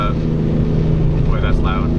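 Loud, steady road noise and engine drone fill the cabin of a Tesla car cruising in traffic on a highway near Chicago, with a voice talking over the constant rumble.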